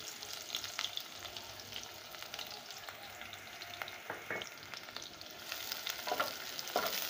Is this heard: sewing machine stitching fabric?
no